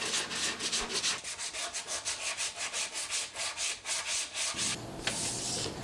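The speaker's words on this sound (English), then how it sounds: "I cleaned up my router handiwork with the palm sander, and then smoothed out some of the edges on the desk" A palm sander smooths the edges of a wooden music studio desk, its steady abrasive whir rising and falling in rhythmic strokes up close, with a short pause near the end before sanding resumes.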